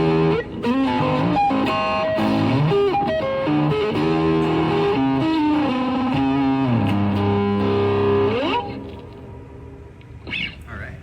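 Electric guitar played through an M-VAVE Tank-G multi-effects pedal on a preset with added reverb: a loud, distorted run of chords and single notes, steady throughout, then a decaying reverb tail and a faint pick scrape at the end.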